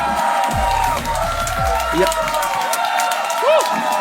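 Live crowd at a Hindi stand-up comedy show breaks into sustained applause with cheers and whoops, loud and continuous throughout, mixed with crowd noise and some voices.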